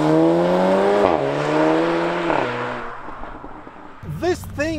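A 300 hp VW T-Roc R with an Akrapovic exhaust accelerates at full throttle, its engine note rising through two gear changes, then fading as a voice talks over it.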